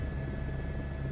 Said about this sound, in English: I'm gonna raise my helicopter up so you can see.